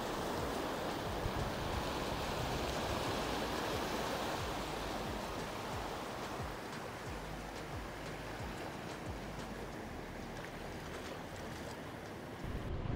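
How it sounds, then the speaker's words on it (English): Large ocean waves break steadily on a beach on the Yorke Peninsula, a loud continuous roar of surf with rolling crashes and no voices. "But there are some huge waves coming in"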